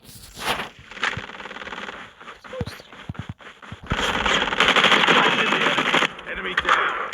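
Bursts of rapid gunfire crackle in a Call of Duty Mobile battle royale match, with short volleys early on and a long, loud sustained barrage later, mixed with brief voice sounds.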